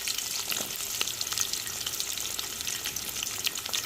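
Sliced onion, garlic and green chilli fry in hot oil in a pan, making a continuous, dense, crackling sizzle that stays close and steady throughout, with no talking.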